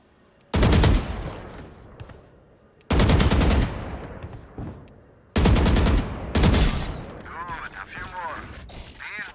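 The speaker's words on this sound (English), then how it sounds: "So, move to face each bot, then stop and shoot while standing still." Three long bursts of automatic fire from Valorant on PS5 sound loud and close, each a rapid stream of shots that decays into ringing echoes, with a voice talking briefly near the end.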